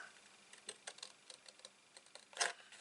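Scissors make sparse, faint snips through paper during a Christmas train advent craft, a few quick cuts spaced irregularly with no talking.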